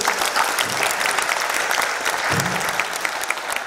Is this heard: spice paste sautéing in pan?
no